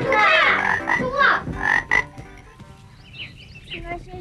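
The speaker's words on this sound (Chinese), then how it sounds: "小青蛙呱呱叫" A frog in a children's animated fairy tale croaks in a quick run of loud, close, throaty calls, then fades into softer, higher chirps, with no talking.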